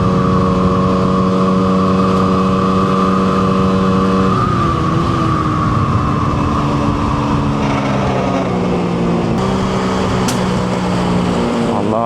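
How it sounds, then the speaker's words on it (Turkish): A scooter engine drones loudly and close by. Its pitch shifts partway through as it passes, and a couple of faint, sharp exhaust pops from backfiring break through near the end. "Allah egzoz patlatıyor ya. Skutura bak sen."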